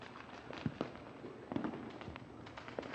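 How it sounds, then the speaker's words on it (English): Firecrackers burst during celebrations in Poonch, Jammu and Kashmir, a scattered series of faint, distant pops over a steady background rumble. "Firecrackers also adorned the skies over Jammu and Kashmir's Poonch as locals celebrated the historic day."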